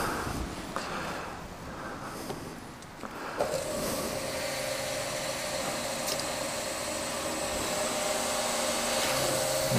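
A fuel pump fills a car with Super 95 petrol at a filling station, giving a steady whirring flow that starts partway through and continues unbroken, close and moderately loud.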